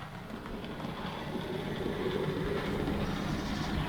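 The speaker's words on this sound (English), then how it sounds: "The motor noise seems to have quietened a little. You can still hear it though." A Rapido OO gauge Metropolitan Railway E class model locomotive runs with its motor giving a steady low hum and light rail rumble, fairly quiet and continuous throughout with no talking.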